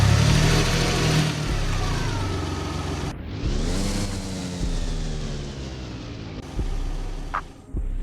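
A DeLorean in the Driving Empire video game runs its engine, a loud steady mid-pitched drone that drops away and then climbs again in pitch as it revs and accelerates, with a brief higher whine near the end.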